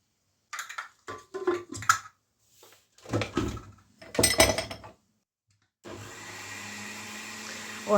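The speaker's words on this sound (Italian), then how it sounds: "Ho azionato il frullatore fino a far diventare una crema il composto di spinaci e uova" Kitchen clatter and knocks come first, then a blender starts on a spinach and egg mixture for oven lasagne and runs as a loud, steady motor whir to the end.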